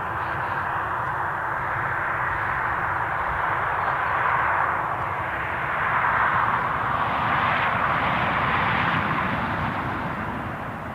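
An aircraft departing Newcastle International Airport gives a sustained jet roar that swells and eases slightly at a moderate distance, steady throughout with no talking.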